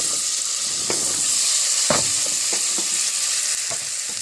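Onions fry in Irish butter in a pot at the start of a tomato and roasted red pepper soup, with a steady close sizzle and scattered pops and stirring clicks throughout.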